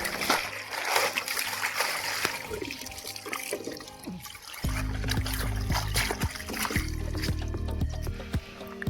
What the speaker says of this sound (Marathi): सो आता खाली केलं की पाणी येणार आहे.